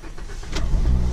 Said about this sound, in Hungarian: Na, indítjuk az autót.